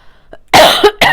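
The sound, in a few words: coughing into the microphone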